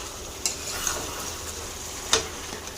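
Steady sizzling and frying crackle of chicken and potatoes in a pan, with a few sharp clicks of a utensil scraping the pan, close and continuous.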